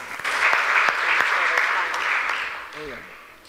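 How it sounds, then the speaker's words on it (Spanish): Audience applause at a documentary event in Barcelona, a steady wash of clapping that holds for a few seconds and then fades, with a voice briefly speaking near the end. "Un aplauso."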